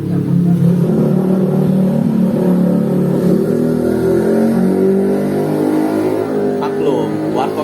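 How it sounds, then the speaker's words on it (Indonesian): Motorbikes stream past a roadside coffee stall, a loud, constant engine drone with revving swells that never lets up across the whole stretch. "Maklum, warkop pinggir jalan, biasalah banyak motor."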